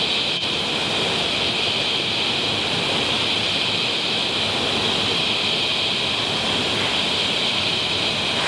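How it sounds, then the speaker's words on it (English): Running Creek Falls, a large waterfall in southern Queensland, gives a steady, unbroken roar of falling water that stays loud and even throughout, with no voices. "I finally arrived at the vantage point of Running Creek Falls, and it is spectacular."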